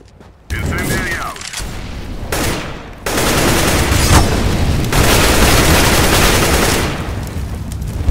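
Gunfire in Counter-Strike: Global Offensive plays as loud, dense bursts of rapid shots and booms that run almost without a break, with short quieter gaps and voices talking over the action.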